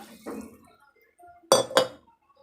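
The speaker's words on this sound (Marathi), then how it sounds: "अजून थोडंसं पाणी टाकणार आहोत" Water poured into a pot of rice for biryani, heard as two short splashing gushes with metallic pot clinks between them, close and fairly quiet.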